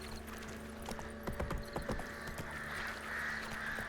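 Hooves of the horse Roach clip-clopping along a road in The Witcher 3, a steady run of close hoofbeats over a soft ambient game backdrop.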